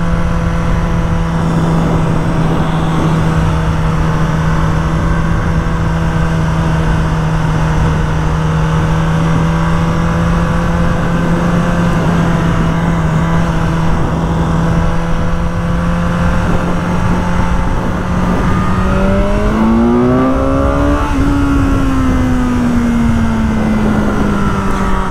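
A 2022 BMW S1000R motorcycle engine drones loudly and steadily on a test ride, holding a constant pitch for a long stretch before revving up and easing back near the end, with no talk over it.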